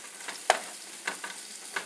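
Onions fry in butter and grape seed oil with a soft, steady sizzle broken by a few faint pops and crackles, heard alone at low volume.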